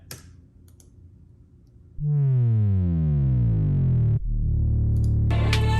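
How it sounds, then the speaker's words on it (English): In a dark trap beat, a quiet thin tone gives way to a loud, distorted bass guitar note that glides smoothly downward, then a second bass note slides in with crisp percussion at the end. "I made the bass guitar, gave it like a nice bass slide"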